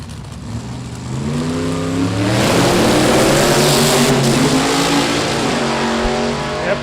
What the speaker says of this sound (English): That Pontiac made a lot of noise.